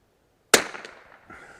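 A Bergara B14R rifle fires once at an outdoor range, a single sharp crack that trails off into a brief decaying echo.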